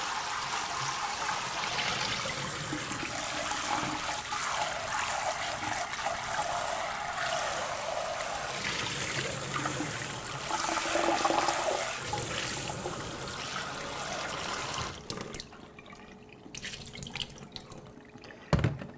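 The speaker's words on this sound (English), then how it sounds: "Now what you want to do is just rinse them through one more time just to get the salted water out of the bowl." Cool tap water runs hard into a bowl as sausage casings are rinsed, a loud steady splashing rush that stops abruptly, followed by a few faint drips and small clanks, with no talking.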